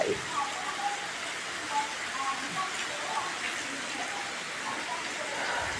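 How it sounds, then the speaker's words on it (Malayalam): Steady monsoon rain in Kerala patters on a surface, a continuous broadband hiss with scattered drips, moderately quiet and close. "ഈ നല്ല മഴ."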